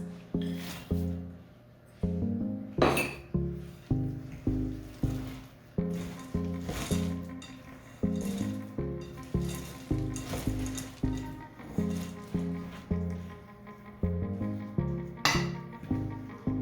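Chopped walnuts are stirred into thick chocolate chip cookie dough, making repeated close, rhythmic scraping strokes at roughly one per second.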